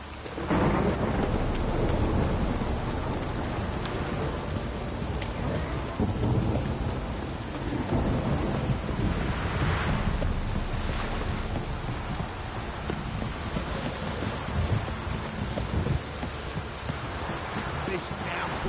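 Heavy downpour and rolling thunder in a PS4 video game, a steady dense wash of rain with deep rumbles swelling throughout, some low talk underneath.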